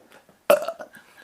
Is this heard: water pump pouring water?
no